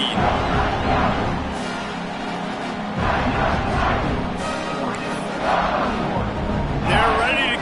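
Large football crowd roaring and buzzing in a stadium after a score during an Indiana at Oregon game, a dense, steady wall of cheering voices with surges of louder yells throughout.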